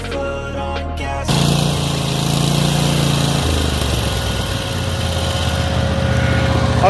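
Toro lawn mower engine running with a steady, loud mechanical drone that kicks in after a quieter first second and shifts pitch slightly partway through.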